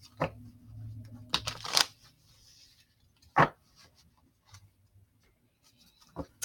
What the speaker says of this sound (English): Let's do a little bit of shuffling here.